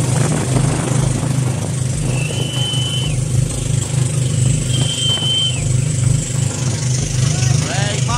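Engines of a large wooden fishing boat returning from its first trip run steadily and loudly throughout, a continuous low droning rumble with faint squeals above it.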